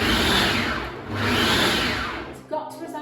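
Butter pulsing in a food processor for a from-scratch pecan pie crust, two long whirring bursts of the motor with a short dip between, loud and close, ending in a brief clatter.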